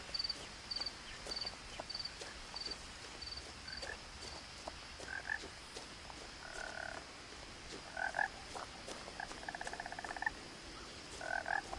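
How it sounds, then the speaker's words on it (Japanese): Frogs croak in repeated, rhythmic bursts over a constant high chirping of crickets in the What Remains of Edith Finch video game, with soft footsteps ticking along beneath, all fairly quiet and outdoors. "めっちゃカエル。"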